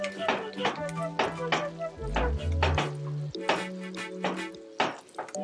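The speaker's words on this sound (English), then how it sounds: "stir it" Creole seasoning being stirred into a pasta sauce in a pot, with irregular scraping and clinking strokes over a soft sizzle and a low hum.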